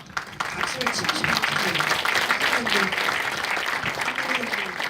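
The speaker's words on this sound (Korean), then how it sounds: "우리 황교익 선생님 박수를 치고 싶어요" A crowded audience applauds for Hwang Gyo-ik at a Yongin talk event, dense continuous clapping, loud and sustained, with voices talking underneath throughout.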